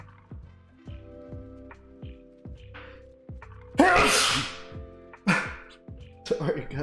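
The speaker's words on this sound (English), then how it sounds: "sorry guys, sneeze" A person sneezes loudly and close, with one sharp forceful burst followed by a second smaller one, over a repeating electronic ticking beep pattern in the background.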